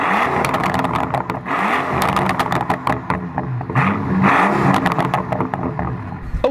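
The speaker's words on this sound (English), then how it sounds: "one little item I think you're going to want to hear, and that would be a rev of this engine" A Mercedes SL65 AMG Black Series engine revs hard and loud up close, repeated rising and falling throttle blips with a rough, clattering edge, no talking.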